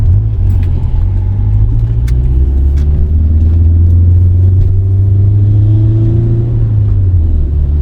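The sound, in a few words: tuned Subaru Forester STI big turbo car driving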